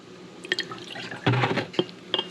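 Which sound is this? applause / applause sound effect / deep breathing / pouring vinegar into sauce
pouring vinegar into sauce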